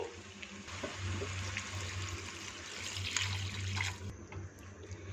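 Water pours steadily into a pot of pumpkin curry, a soft continuous splashing and trickle with a low hum underneath, fairly quiet and close.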